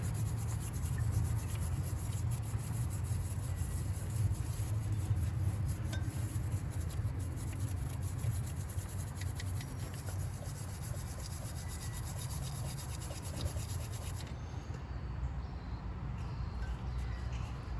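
An abrasive brush rubs steadily over a Jeep engine block, a continuous gritty scraping held at even loudness for the whole stretch, close by with no talk.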